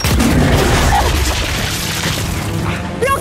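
A deep boom rolls through dense, noisy Gears 5 game audio, a heavy blast among rumbling effects and clatter, with no clear speech.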